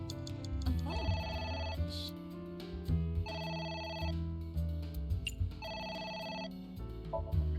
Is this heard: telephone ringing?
yes